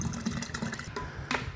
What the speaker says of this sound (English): at this stage I'm going to add some water as well